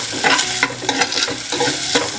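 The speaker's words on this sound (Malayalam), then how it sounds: "അപ്പം ഉള്ളി നന്നായിട്ട് ഒന്ന് വഴണ്ട് വരണം." Onions sautéing with curry leaves and ginger for a Kerala kettu vallam fish curry: steady close sizzling in hot oil with rhythmic spoon stirring and scraping through the pan, loud, with no talking.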